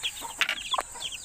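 A mother hen clucks among newly hatched chicks, with soft peeping and a couple of sharper calls in short bursts, close by and fairly quiet, with no talk.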